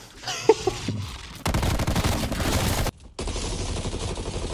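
Rapid automatic gunfire in a shooter video game: long sustained bursts of loud, dense shots with a brief gap between them.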